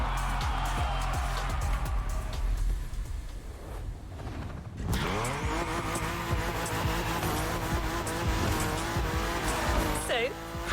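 A modded BMW races in The Crew Motorfest, its engine roaring and revving through gear changes while the tires squeal and skid, loud and continuous, with a voice talking over it.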